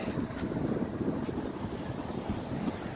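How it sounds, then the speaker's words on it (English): Strong wind on the Golden Gate Bridge buffeting a microphone, a constant low rumbling roar with gusty fluctuations throughout. "I didn't count on how windy it is"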